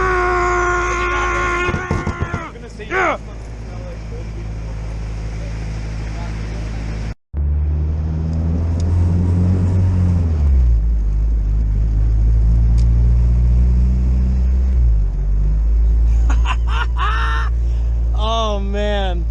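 Honda Integra with a manual clutch driving near a pond: a close, loud low engine rumble whose revs rise and fall, after a short gap that follows a busier stretch of mixed noise at the start.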